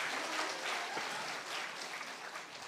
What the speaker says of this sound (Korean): 우리 강사님께 사랑과 감사와 북돋움의 박수와 함성 다시 한번 보내드리겠습니다